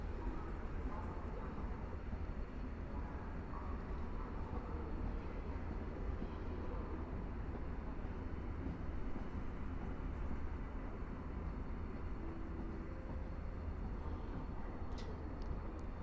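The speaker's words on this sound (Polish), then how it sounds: "Opóźniona kilkanaście minut Alicja z pociągiem osobowym do Radomia Głównego." At Warszawa Zachodnia station, a delayed passenger train bound for Radom Główny rolls in with a continuous low rumble and faint wheel noise, steady and moderately distant, under a light murmur of outdoor station ambience.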